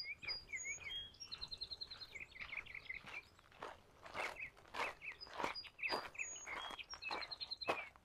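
Birds chirp and trill repeatedly at a coastal bird sanctuary in Cape May Point State Park, New Jersey, over crunching footsteps on a trail, and the calls are fairly close and lively.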